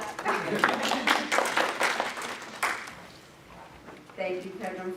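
Audience clapping after a presentation at a graduate scholars conference, a burst of hand claps that thins out, with a voice speaking near the end.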